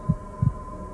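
Human heartbeat, a single close lub-dub pair of soft low thumps over a steady faint hum.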